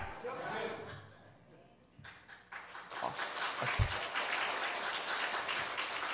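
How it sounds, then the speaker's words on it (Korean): A church congregation breaks into applause during a Korean sermon, a dense, steady clapping that swells from about two seconds in and holds at moderate loudness, with some talk early on. "박수까지는 예상을 못했습니다"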